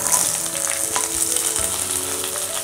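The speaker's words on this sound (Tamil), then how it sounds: "வெங்காயம் நல்லா பொன்னிறம் ஆகிற வரைக்கும் வறுத்துக்கணும்." Chopped sambar onions sizzle and crackle steadily in hot oil, a close, continuous frying hiss with occasional soft pops.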